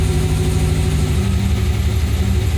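A new LS3 crate V8 idles steadily just after its first start, a loud, close, even rumble with a smooth throbbing low end and no talk over it.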